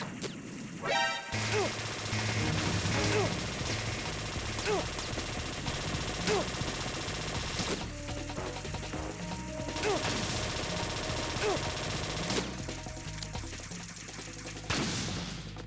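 A SOCOM pistol fires in a video game, with repeated sharp shots at a steady pace, loud and close over a dense background of game noise, with some talking.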